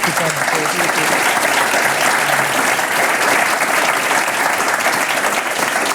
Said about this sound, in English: please give the panel a very good round of